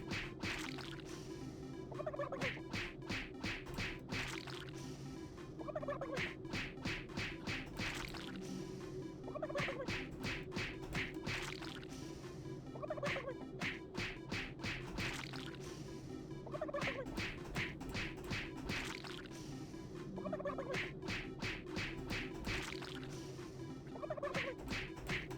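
Turkeys gobble repeatedly in Doom 3 BFG Edition, bursts of game gobbling recurring every few seconds over a steady low hum, loud and with no talk.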